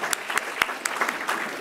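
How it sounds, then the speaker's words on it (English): Audience applause at a City Club of Chicago event welcoming Amanda, the new Acting Executive Director: a short, steady patter of clapping from a modest crowd with a few sharper individual claps standing out. "So let's give her a big round of applause"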